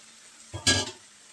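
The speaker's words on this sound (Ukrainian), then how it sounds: "висипаємо на сковорідку наші гриби на суху" A short clattering pour of wild forest mushrooms into a dry frying pan, a soft tumble followed by a brighter rattling burst that fades within half a second, with no talking.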